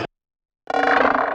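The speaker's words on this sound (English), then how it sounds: "the first two here are just these little micro freak effect samples that I have" An Arturia MicroFreak effect sample for a hard techno background: a short clipped burst, a brief silence, then a dense buzzing tone that swells in and holds, loud and alone.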